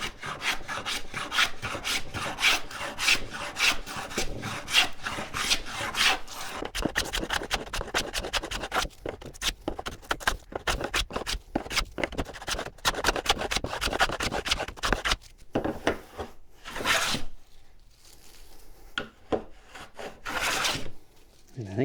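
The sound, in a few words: hand plane (Fales patent plane) cutting a wood profile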